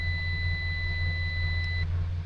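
A car buzzer on a Chevy Suburban gives a steady two-tone electronic beep for almost two seconds over a low engine-like hum, then cuts off.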